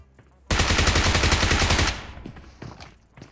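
Sustained automatic gunfire in the mobile shooter PUBG Mobile: a rapid, loud burst of about one and a half seconds that cuts off abruptly, followed by a few scattered faint shots.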